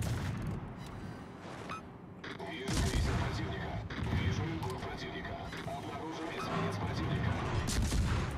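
Ship guns fire on the destroyer Jaguar in a naval video game, booming in heavy overlapping salvos that build through the clip while a voice talks over the barrage.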